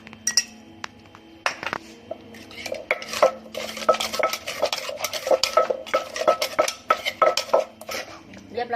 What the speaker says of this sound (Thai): ใส่ตอนปลาลงไป แล้วก็คลุกเคล้าเบาๆนะคะ